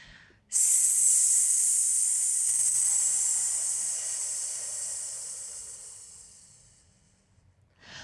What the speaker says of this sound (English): Take another breath in, and let's try an SE sound